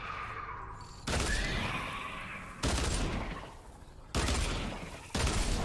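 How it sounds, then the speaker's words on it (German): Dual pistols firing in the Fortnite video game, loud bursts of rapid gunfire arriving in several sharp volleys, each one cut off abruptly, with no voices. "Wie heftig die Dual Pistol einfach ist"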